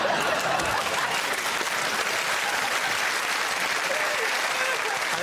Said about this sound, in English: I think that might be the least satisfying round of applause I've ever had